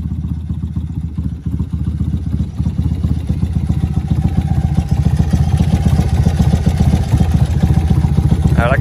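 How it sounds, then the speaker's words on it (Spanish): A BMW R100 brat-style motorcycle's original, non-rebuilt boxer engine runs steadily close by, with a deep, loud, even throb and light mechanical clatter throughout. "La verdad que la moto suena bastante bien"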